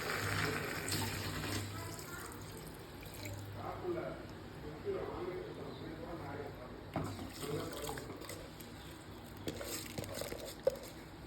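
Water is poured into a pot of vegetable biryani, a soft, quiet splashing and trickling that runs on with small irregular bursts.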